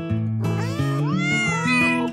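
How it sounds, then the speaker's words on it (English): A family of kittens meowing: several overlapping, high, drawn-out mews, loud and close, following one after another with no pause and no talking. "we have asked for help from this beautiful family of kittens"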